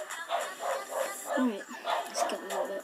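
A pet dog barks and yips repeatedly in the background of a home kitchen, the barks coming in a steady series underneath a person's continuous talking.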